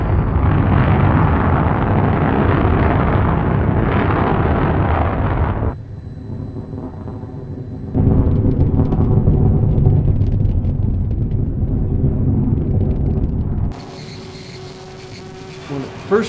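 The SpaceShipOne rocket motor firing after release from the White Knight carrier aircraft, a loud sustained roaring rush that drops away partway through, then returns before fading to quieter background noise.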